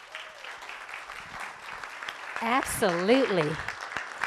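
A room of people at a city proclamations meeting gives a round of applause, a soft scattered clapping running beneath a voice speaking close by.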